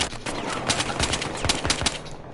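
Video game gunfire crackles in rapid bursts of automatic shots, loud and near, with sharp cracks stacked over a steady din of battle.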